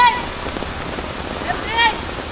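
Constant hiss of rain falling over an open space during a flood, with a brief voice rising above it near the end.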